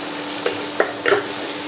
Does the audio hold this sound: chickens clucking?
no